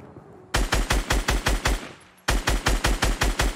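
Rapid automatic gunfire in Fortnite Battle Royale, a mounted turret letting off two loud close bursts of evenly spaced shots with a short pause between, no voices.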